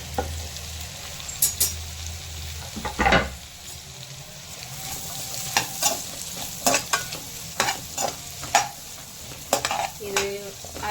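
Four sliced onions frying and sizzling in melted butter in a pan, a steady near crackle with repeated stirring scrapes and clinks from a spoon.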